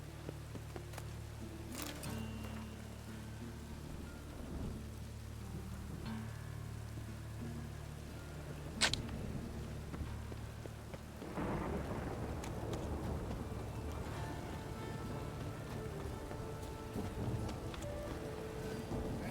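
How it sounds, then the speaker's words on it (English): Steady rain and rolling thunder from a stormy scene in the video game The Witcher, set in Novigrad, with a sharp thunder crack midway and the downpour growing heavier and denser toward the end, no voices. "It's raining again."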